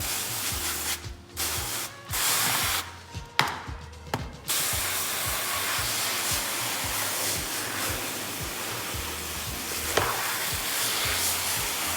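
Water spray rinses Dawn PowerWash dish spray off a surface, giving a steady broadband hiss that runs almost the whole time, broken early by a few short gaps and bursts.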